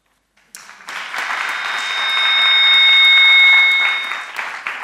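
Applause from the audience at a 2019 research prize award ceremony begins abruptly after a brief silence, swells to a loud, dense peak of clapping, then eases slightly, with faint feedback tones ringing from the microphones.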